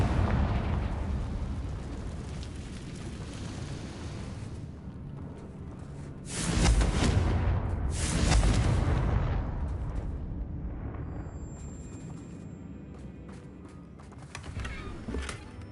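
A Confringo blasting spell from Hogwarts Legacy erupts in a loud, booming blast with rumbling debris, followed by a second burst and a fading crackle over continuous game ambience.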